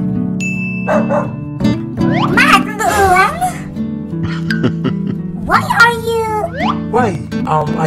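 A dog barks and yips repeatedly in a home, loud and close, with whimpering between the barks, mixed with people talking and background music.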